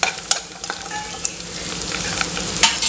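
Onions frying in a pan for Tamil vathal kuzhambu with dried sundakkai, a bright continuous sizzle up close and several sharp scrapes and clacks of a stirring spoon, with no voices.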